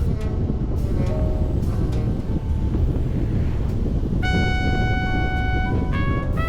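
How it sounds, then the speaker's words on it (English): Steady, loud wind buffeting while riding a motorcycle through Ljósavatnsskarð in north Iceland, a continuous roar filling the clip, with a faint tonal whine joining in near the end. "One might think the wind has calmed, and indeed it is not as fierce"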